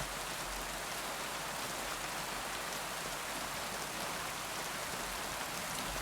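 Steady, even rain pours throughout the video game Kingdom Come Deliverance 2, a continuous hiss of drops on surfaces with no break or talk.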